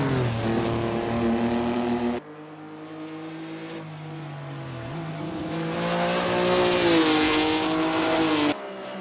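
Race cars at the 1951 Spa Grand Prix roaring past, engines whining and climbing in pitch, one car's note cut off abruptly before another swells in, loud and sustained with no voices.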